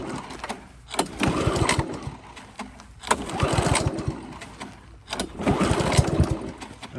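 A Honda HRB215 walk-behind lawn mower being pull-started on full choke: loud bursts of engine chugging come in three separate pull attempts, each sputtering briefly before dropping away, heard close with no speech.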